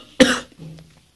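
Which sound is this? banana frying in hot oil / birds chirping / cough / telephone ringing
cough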